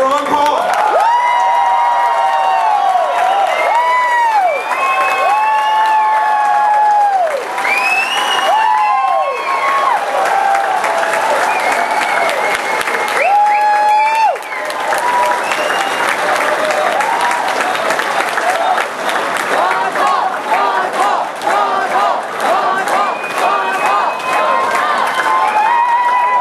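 A large rally crowd welcomes Congressman Ron Paul at a veterans' event in Spartanburg, South Carolina, with loud, sustained applause and cheering for the full stretch, whistles and shouts rising over steady clapping.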